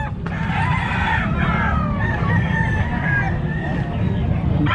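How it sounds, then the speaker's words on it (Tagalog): Several gamecock roosters crow over one another in drawn-out calls, with clucks mixed in, under a steady engine rumble and market noise. "Mga manok dito, panabong."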